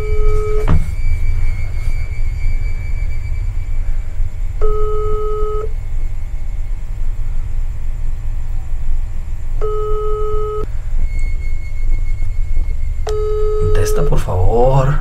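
Phone call ringing tone on WhatsApp, a repeating electronic beep pattern in evenly spaced bursts over steady background hum, with a voice speaking briefly near the end.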